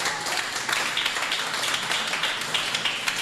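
A church congregation claps together during a sermon, a dense steady patter of many hands clapping with no voices over it.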